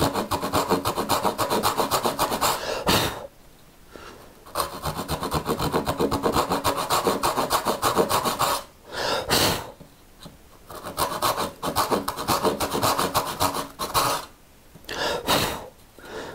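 Hand saw rasping through wood while cutting dovetails, steady close back-and-forth strokes in long runs with a few short pauses between passes.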